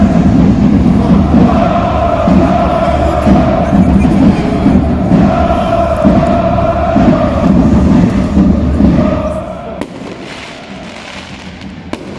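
Paris Saint-Germain fans inside the Parc des Princes chant rhythmically, heard in the distance from outside the stadium, with pulsing, repeated phrases; the roar then drops away near the end, leaving a sharp bang or two.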